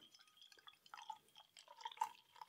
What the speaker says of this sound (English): I'm going to pour into my Jump Ship brewing glass tonight.